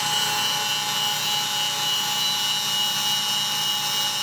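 A diamond-wheel saw cuts quartz with water dripped onto the blade, giving a steady, loud high-pitched whine and hiss that holds evenly throughout with no breaks and no voices.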